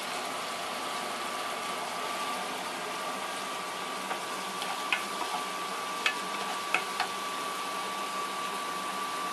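A spice paste for dal makhani roasting in a pan gives a steady, soft sizzle throughout, with a few faint clicks and taps of stirring near the middle and no talking.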